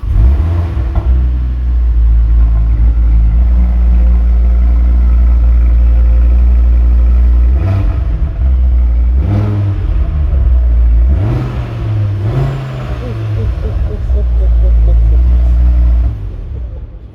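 A loud, deep 2024 Audi RS3 engine rumbling at idle, heard from the rear, then revving sharply several times in short bursts before settling back down.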